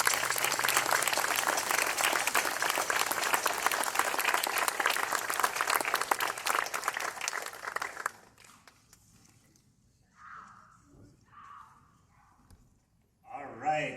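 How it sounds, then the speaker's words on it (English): A crowd at an outdoor city band concert gives a dense, sustained round of applause for sister city children, steady and loud for about eight seconds before cutting off, followed by quiet with a few brief spoken words. "So I'd like everyone to just give them a big round of applause for showing such courage and bravery"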